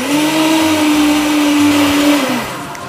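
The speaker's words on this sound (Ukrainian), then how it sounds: "Тепер закриваємо наш блендер і наш здоровий, як кажуть вегетаріанці, майонез зараз буде готовий." An electric blender whirs loudly and steadily for about two seconds as it mixes homemade vegetarian mayonnaise, then its motor winds down.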